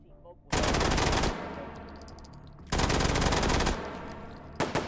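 A MAC submachine gun fires in a video game in two sustained, dense automatic bursts, loud and close, with a brief quieter gap between them and the start of a third burst at the end.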